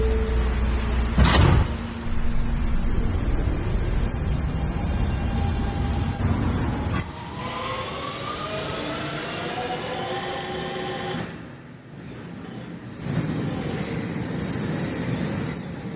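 An R160B Siemens subway train on New York's R line closes its doors with a thud, then pulls out. The traction motors give a rising whine that climbs over the rumble of wheels as the train gathers speed.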